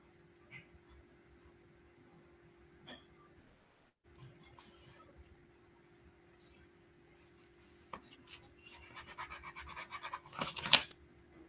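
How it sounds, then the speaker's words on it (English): A pencil scratching in a notebook in a quiet room: faint, scattered strokes at first, then busier, denser scratching that builds toward the end. "Write it in your notebook exactly"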